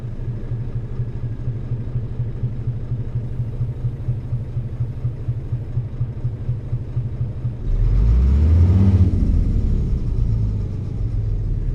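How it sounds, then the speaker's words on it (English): A truck engine with a Zeemods engine mod in Euro Truck Simulator 2 rumbles at a steady, low drone, then swells into a louder, heavier roar near the end. "We're running a Zeemods engine mod."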